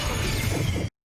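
A single abrupt sneeze bursts out close and sharp, lasting under a second before cutting to silence.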